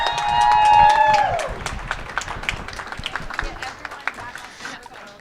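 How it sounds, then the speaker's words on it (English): At a pop culture convention panel, a loud cheer and shout open the moment, then audience applause settles into sparse, uneven clapping from a small crowd that trails off toward the end. "Let's have a round of applause."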